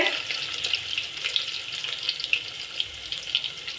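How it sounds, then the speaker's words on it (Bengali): Chopped garlic drops into hot oil and fries with a close, bright, continuous sizzle, dotted with small crackles and pops. "তেল গরম হয়ে আছে এর মধ্যে দিয়ে দিব রসুন কুচি তো রসুন কুচিটা দেখলে দেখুন তেল কীভাবে ফুটছে"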